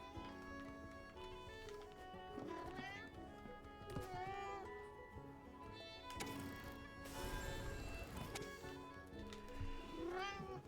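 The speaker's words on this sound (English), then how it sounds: "It's not helping my cat being very distracting." A house cat meows and caterwauls repeatedly in drawn-out, wavering cries close by, mixed with background game music and a person talking.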